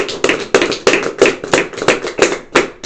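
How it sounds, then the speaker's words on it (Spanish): A church congregation applauds during a sermon, with loud claps landing in a fairly regular rhythm, about three per second, and no voices over them. "Dale un aplauso a nuestro Rey."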